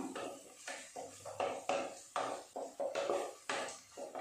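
Onions stirred in a pan while cooking an egg curry, with a spoon scraping and clinking against the metal in quick irregular strokes, close and fairly loud, without any talk.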